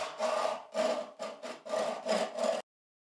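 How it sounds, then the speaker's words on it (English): A homemade all-purpose crosscut saw cuts a wooden blank from dimensioned stock in five close, rhythmic rasping strokes, then stops abruptly into silence. "Tom cuts the blank from the dimensioned stock using his trusty homemade all-purpose crosscut saw"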